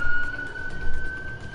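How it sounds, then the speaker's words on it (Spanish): Police car or ambulance siren wailing on a steady high tone, fairly loud and continuous, over low traffic rumble. "Ahora ya no sé si es una patrulla o una ambulancia"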